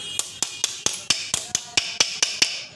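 A hammer strikes a pin into a loader rickshaw gearbox: about eleven sharp metallic taps in a steady, fairly quick rhythm, close and clear, with no talk.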